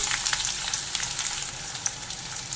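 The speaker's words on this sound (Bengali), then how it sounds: "তেল গরম হয়ে গেছে দিয়ে দেবো পেঁয়াজ কুচি" Chopped onions fry in hot mustard oil in a wok, giving a steady, close hiss of sizzling with small crackling spikes throughout and no talking.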